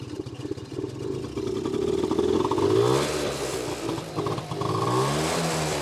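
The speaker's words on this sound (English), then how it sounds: "It's about as quiet as a two-stroke gets." A 1983 Honda Motocompo scooter's small two-stroke engine runs close by, fairly quiet, idling and then revving up and down in smooth waves for several seconds.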